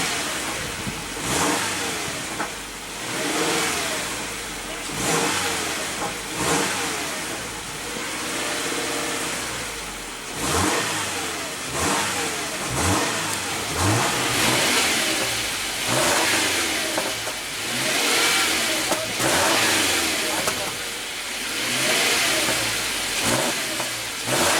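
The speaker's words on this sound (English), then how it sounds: "let's go ahead and rev up that 4-cylinder engine and see what kind of soundtrack she makes" A 2015 Subaru Legacy's 2.5 L four-cylinder engine revved repeatedly from idle, each throttle blip rising and falling in a steady rhythm of roughly a dozen close, loud pulls.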